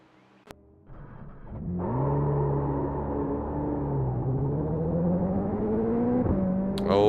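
A GT3 race car engine in the iRacing sim revs up from idle and holds a sustained, loud, climbing drone for several seconds while warming its rear tyres at Watkins Glen, ending with a sharp burst.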